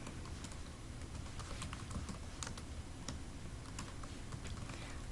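Rapid, steady typing on a computer keyboard while a name is entered in Lotus Notes 9 mail software, the clicks close and continuous for several seconds with no talking.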